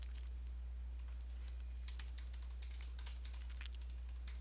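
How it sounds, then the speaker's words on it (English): Quiet keyboard typing begins after a short pause, a loose run of light key clicks over a steady low electrical hum. "I'll start typing and see if OPERS is on my list."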